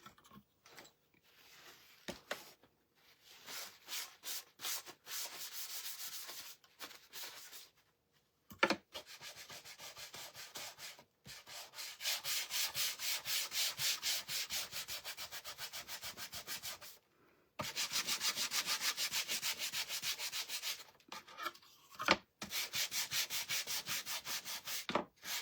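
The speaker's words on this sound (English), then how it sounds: "I need new sandpaper, y'all." Sandpaper rubs back and forth across a wooden sunflower sign in quick, rhythmic scratchy strokes, grouped in bursts separated by short pauses, close up and unaccompanied by speech.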